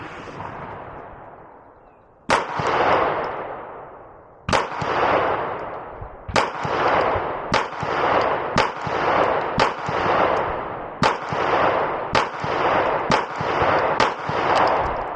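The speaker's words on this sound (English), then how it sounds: "I'm going to go ahead and shoot normally, and I'm going to hold a tight group, and we got 10 rounds." Ten loud, sharp pistol shots from a Beretta PX4 Storm fitted with a VPArmory compensator, fired at 5 yards. They come at irregular intervals of roughly one to two seconds, and each crack rings out with a short echo tail.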